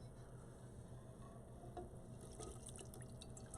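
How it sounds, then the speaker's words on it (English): Rendered dry aged beef tallow is poured into a fine mesh strainer, a quiet continuous liquid trickle with small dripping ticks, close but faint. "So we're going to go ahead and we're going to pour this into here."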